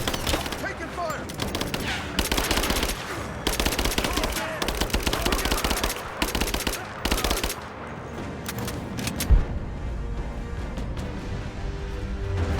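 Automatic gunfire in the Rise of the Tomb Raider video game, long rapid bursts separated by short gaps, loud and close, with a heavy impact near the end and steady background noise after the firing stops.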